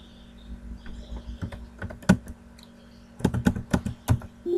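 Keys clatter on a computer keyboard in short irregular bursts of close, crisp taps, with quiet gaps between the clusters and no talk.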